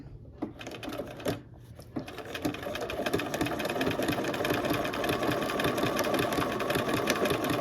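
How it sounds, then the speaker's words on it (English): A sewing machine stitches quilt fabric in cream, berry and teal threads with a fast, steady mechanical chatter that runs close and continuous, starting a little uneven before settling into a constant run. "There's something really therapeutic about this, just kind of taking it slower on the machine and working that fabric around."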